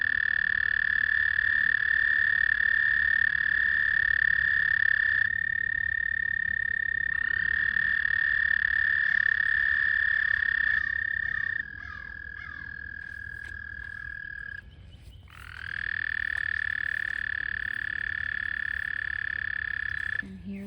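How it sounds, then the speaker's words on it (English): A loud, continuous chorus of frogs croaking and trilling, with several overlapping voices that drop out briefly and return, with no talking. "So those frogs there are mating."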